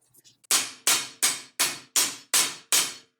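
A hammer tapping a U-joint bearing cap with needle bearings on a Jeep front axle in a home garage: seven sharp, evenly spaced metallic knocks, close and loud, after a few faint preliminary taps.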